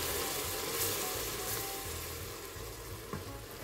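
Sofrito frying in a pan for a pizza sauce, a steady soft sizzle and crackle with faint hiss, fairly quiet and continuous, with no voices.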